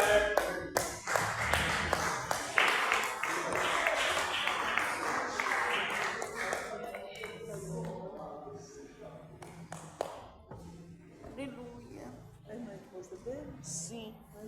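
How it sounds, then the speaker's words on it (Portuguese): A church congregation claps along at a Pentecostal worship service in São Mateus, steady rhythmic hand claps that are loud at first and then fade, with voices and singing mixed in. "vamos ver o pastor Manuel, com palmas, bem alegre."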